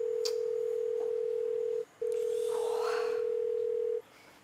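A telephone call tone plays loud over a speakerphone as two long steady beeps, the first about two seconds and the second about two seconds after a brief gap.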